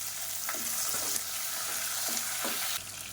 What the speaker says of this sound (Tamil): இப்போ வெங்காயம் பூண்டு நல்லா வதங்கிருச்சு